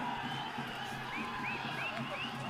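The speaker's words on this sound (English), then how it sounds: "The crowd has become vocal." Spectators at a Navy SC versus Kandy SC rugby match grow loud, a steady roar of crowd noise with scattered shouts and whistle-like calls rising over it throughout.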